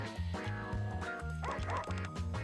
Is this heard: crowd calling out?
no